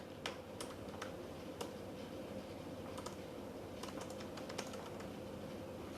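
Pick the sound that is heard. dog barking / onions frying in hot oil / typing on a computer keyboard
typing on a computer keyboard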